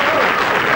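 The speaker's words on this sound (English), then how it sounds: "A big round of applause." A television quiz show's studio audience claps loudly and densely for the champions in a brief burst lasting under a second.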